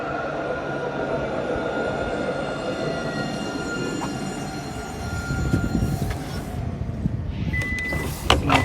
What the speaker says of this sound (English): I saw the train coming.